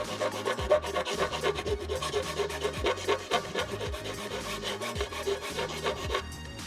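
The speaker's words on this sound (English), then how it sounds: "I've got a big fat square file." A big square file rasps against a plastic part of a Scout Trooper helmet, with steady, rhythmic back-and-forth strokes close up, about eight passes without any talk.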